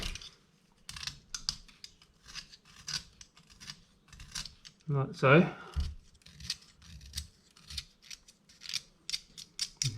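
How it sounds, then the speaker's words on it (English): A pencil is sharpened by hand with a series of close, crisp scraping and rasping strokes in short uneven bursts. A voice speaks briefly partway through. "Alright, pencil, sharpen pencil."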